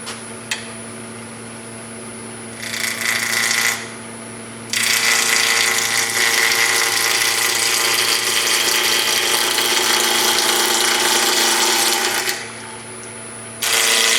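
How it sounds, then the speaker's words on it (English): A wood lathe spins up and runs steadily as a bowl gouge cuts a drone-propeller bowl, giving a continuous whining motor tone with bursts of louder cutting noise between short quieter idle gaps. "I'm going to be using a bowl gouge for this."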